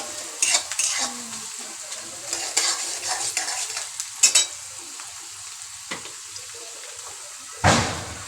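Onions sauté in a pan while preparing a Maharashtrian fish curry, with soft sizzling under intermittent stirring scrapes and clinks of a utensil against the pan, ending in a louder burst of sizzle.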